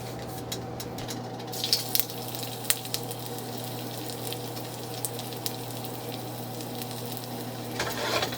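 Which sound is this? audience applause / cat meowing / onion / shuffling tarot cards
onion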